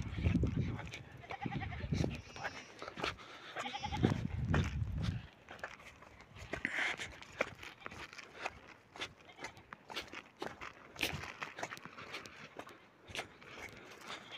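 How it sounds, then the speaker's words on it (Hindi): Goats on a cold alpine meadow, one of them pregnant, bleat in a few loud close calls early on, followed by shuffling hooves and scattered rustling movement. "एक बकरी तो ये शायद बच्चा देने को वाली"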